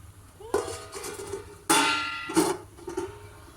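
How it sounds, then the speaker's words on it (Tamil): A few sharp clattering knocks of a metal plate set down as a lid on a clay pot of chicken biryani, two louder clanks with ringing tails, amid faint background sounds. "இப்போ ஒரு தட்டு போட்டு மூடணும்."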